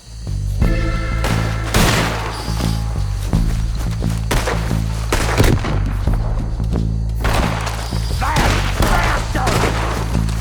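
Video game gunfire in Red Dead Redemption 2 during a shootout at a distillery, with a dense run of loud rifle and pistol shots cracking and booming in quick succession over a low droning score, with a few shouted voices mixed in.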